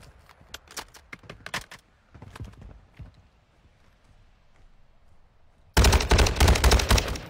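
Video game gunfire while shooting at another player, a sudden loud burst of rapid automatic shots near the end after quieter scattered clacks and thuds.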